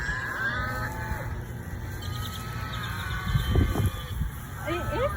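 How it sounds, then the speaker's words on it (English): A cow on a farm lowing during an outdoor nature walk, with a low drawn-out moo rising midway, while birds chirp and insects drone in the background. "It is a cow."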